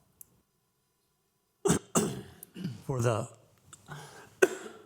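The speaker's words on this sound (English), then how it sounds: "Apologize for these coughs, it's just allergies." A single short allergy cough or throat clearing near the start, followed by a person speaking at a public charter review meeting, with another brief cough-like burst near the end.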